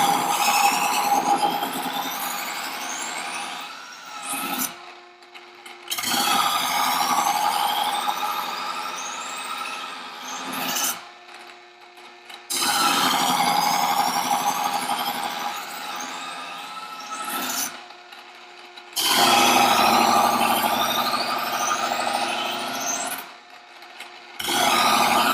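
A knife is drawn through a sharpener with a wire guide in repeated long grinding strokes, each a bright rasping scrape of several seconds separated by short silent pauses.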